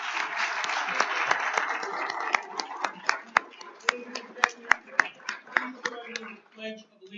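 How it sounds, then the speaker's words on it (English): Applause fills a Hempstead town board meeting for Luke Magliaro: a dense burst of clapping from the room that thins out into scattered individual claps before fading. "please give him a round of applause"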